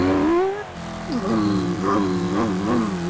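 A person's voice imitates a car engine during a Wreckfest race, humming and warbling up and down in pitch like revving and shifting, loud and close and continuous, with racing game sounds underneath.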